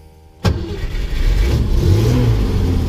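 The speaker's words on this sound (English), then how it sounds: "Now as I push it and start it, I may feather the gas depending on how long the truck has been warmed up" A pickup truck's engine catches with a sharp crank at push-button start, then settles into a steady rumbling rev as the gas is feathered, close and loud with no talk.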